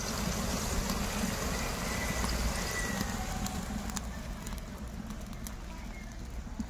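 Gravy boiling in a pot over an outdoor cooking fire at a Bandna festival feast, giving a steady, dense bubbling hiss that is close and even throughout.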